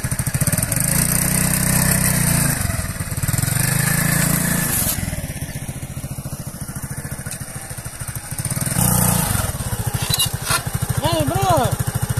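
A broken motorcycle engine runs roughly nearby, sputtering and revving unevenly; it drops in level for a few seconds and then roars back up.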